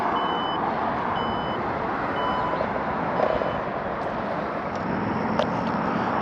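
The power hatch of a 2024 Dodge Hornet RT Plus closes over a steady mechanical hum and motor whir, while a warning chime repeats several evenly spaced beeps nearby.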